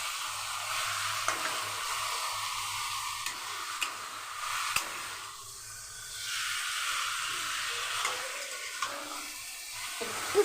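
Chicken sautés in a pan for makhani chicken, a soft continuous sizzle and hiss with scattered utensil taps and scraping throughout, moderately close and fairly quiet.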